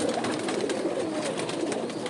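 Several pigeons coo in overlapping, low throaty murmurs, close by and steady, over a hissy background, with no voices.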